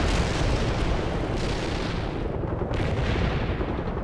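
Artillery barrage in the video game World in Conflict, with a dense, continuous roar of booming impacts and rumbling blasts that stays loud throughout, no voices.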